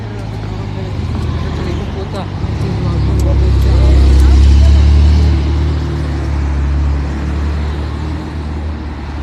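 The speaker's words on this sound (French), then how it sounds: "Porsche 911 Carrera" A Porsche 911 Carrera drives past on a Monaco street, its engine rumble swelling loud and close mid-clip before fading, with street noise and people talking around it.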